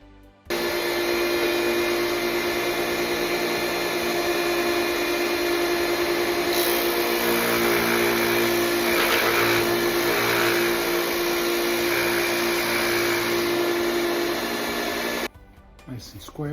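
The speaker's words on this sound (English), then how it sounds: "So we're going to cut this 30 inches long" A power saw cuts a 2-inch wooden dowel to a 30-inch length, making a steady, droning motor whine with a rough cutting texture. It holds for about fifteen seconds with no talk, then cuts off.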